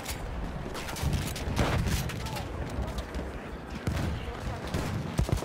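Battlefield 1 combat with a machine gun firing in rapid bursts amid scattered gunshots and booms, loud and continuous throughout, with voices shouting over the battle.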